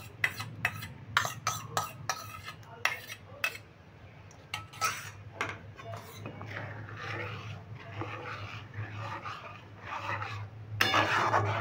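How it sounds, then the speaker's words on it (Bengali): Mango kheer stirred nonstop in a pan over high flame, a ladle scraping and clinking against the metal in quick bursts at first, then a steadier rasping stir over a constant low burner hum. "এবার এইভাবে আমি অনবরত নেড়ে যেতে থাকবো"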